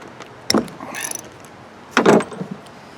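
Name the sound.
ratchet removing carburetor fuel bowl bolt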